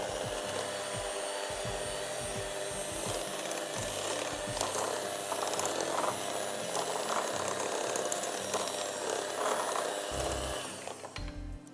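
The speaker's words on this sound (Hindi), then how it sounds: "एक दफा जरा मैं चला लूं बीटर" An electric hand beater whirs steadily through thick brownie batter with cocoa powder and flour, a continuous loud buzzing with small rattling shifts, cutting out near the end.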